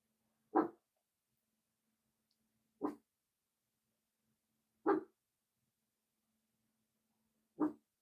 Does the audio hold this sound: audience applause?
no